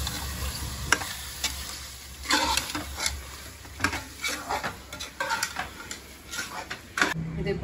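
Prawn biryani masala with chilli powder and salt being stirred in a pan: a spoon scrapes and knocks repeatedly against the metal over a soft continuous sizzle, close and moderately loud.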